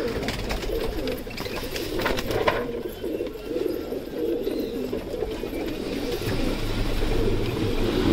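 Pigeons coo and flutter continuously close by at a rooftop feeding spot, a dense murmur of bird noise with faint traffic hum underneath.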